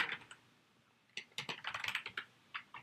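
Quick bursts of typing on a computer keyboard while writing code, crisp close keystrokes in an uneven run with a brief pause, quiet background and no speech.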